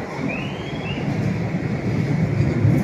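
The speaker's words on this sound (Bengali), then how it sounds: "পেছনের লাইনে মনে হয় ট্রেন আসছে, আওয়াজ পাচ্ছি" A train approaches on a nearby line at Aksaray station, a steady low rumble that swells slightly louder toward the end, with a thin high squeal early on.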